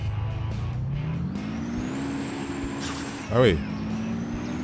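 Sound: Lada car engine revving in video game

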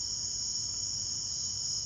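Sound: camel cricket chirping at night

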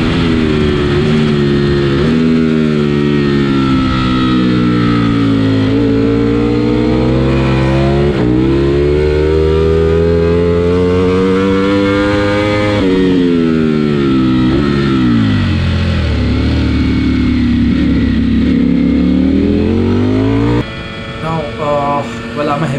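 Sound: Ducati Panigale V4 motorcycle engine revving on a race track

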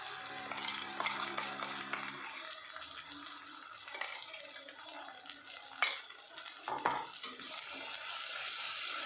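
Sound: spice paste frying in a pan for chole

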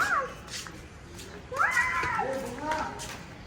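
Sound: cat meowing

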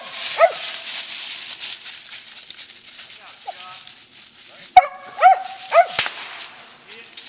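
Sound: hunting dogs barking at a squirrel

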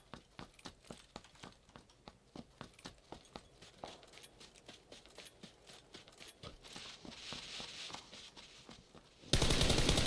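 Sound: footsteps in the video game PUBG

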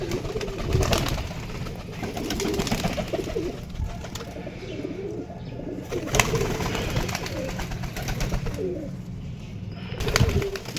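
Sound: pigeons cooing

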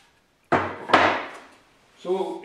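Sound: hand plane planing a flat wood surface

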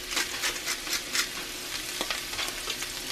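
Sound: corned beef hash and potatoes frying in cast iron skillet

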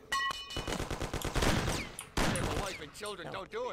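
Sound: gunshots, video game Mafia

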